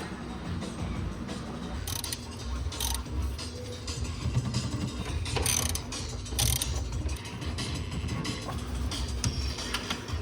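A ratchet wrench clicks in bursts as bolts are torqued down while fitting BC coilovers to a Mazda NA Miata, short rapid pawl clicks over a dull garage background, moderately close, with no clear talk.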